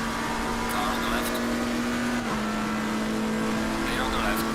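In a racing video game, an engine holds a steady high drone as another race car pulls alongside on the left, with faint whooshes and tire noise, fairly quiet and continuous.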